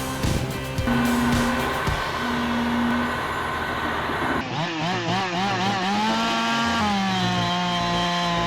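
A powerful big chainsaw cutting wood, its engine screaming loud and close with pitch rising and falling as it bites in and eases off, wavering revs continuing throughout without pause.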